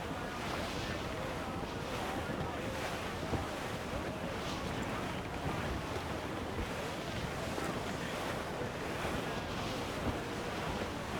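Squall wind and ocean waves in the video game Assassin's Creed IV Black Flag, a constant loud roar of gusting wind and crashing surf around a sailing ship, dense and unbroken throughout.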